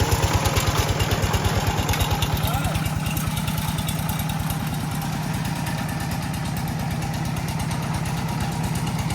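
A tractor engine runs steadily at a traditional village near Sigiriya in Sri Lanka. Its fast, even low thumping continues loud and close throughout.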